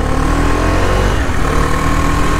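A Husqvarna Svartpilen motorcycle, just fitted with a new chain and sprocket, runs its engine loudly and close, a steady rumbling rev with a thick low drone that barely varies.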